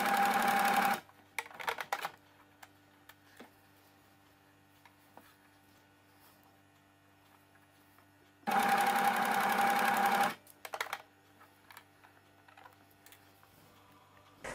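An overlock sewing machine stitches a T-shirt seam in two short bursts of fast, steady whirring and clattering, with quiet pauses and small handling clicks between them.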